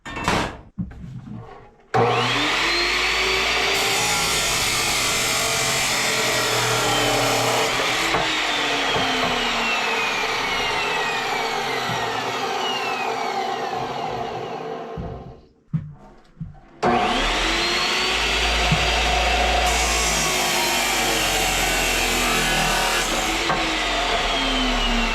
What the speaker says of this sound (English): I've got to cut some steel